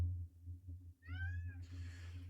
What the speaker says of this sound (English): You can't sit here and yell, Kitty